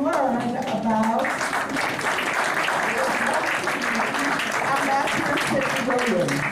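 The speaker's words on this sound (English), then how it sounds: "Your applauding him will keep him coming." An audience at a town hall event claps steadily while a speaker's voice carries over the applause throughout.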